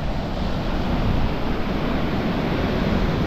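Sea waves wash up at the water's edge on a beach at Playa Jandia, Fuerteventura, heard as a loud, steady roar of surf and broad rushing noise with no voices.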